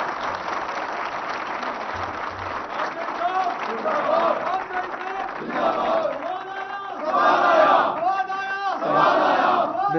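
Large crowd at a road groundbreaking ceremony for the Lillah-Jhelum dual carriageway, applauding and cheering loudly and continuously, swelling near the end, with voices mixed into the din.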